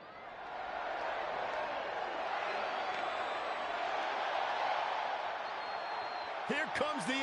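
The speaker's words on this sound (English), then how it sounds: "And Michael, it sounds to me like this crowd already picked the one who they want to win this match." Wrestling arena crowd in the game WWE 2K20 roars in a sustained, dense wall of cheering and chanting, steady and loud throughout, with a brief musical or announcer-like tonal sweep near the end.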